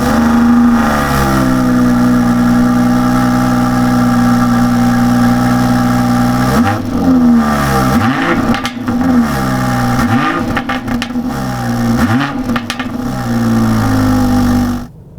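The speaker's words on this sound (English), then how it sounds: "the B58, the more modern engine, which is going to be the basis for the new M lump, which actually sounds very tasty indeed" BMW B58 engine revving repeatedly, a loud steady mid-pitched drone interrupted by several sharp rising and falling blips, close and with no talking.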